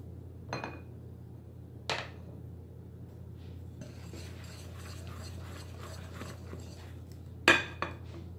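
Banana muffin batter being mixed and scraped in a bowl, with a few sharp utensil knocks against the bowl and a steady low scraping between them, close by.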